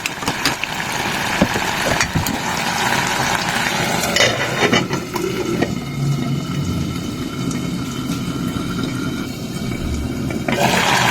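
Tomatoes stirred into a frying curry of potatoes and gundruk, a continuous close sizzle and bubbling hiss with scraping stirs throughout, steady and fairly loud with no talking.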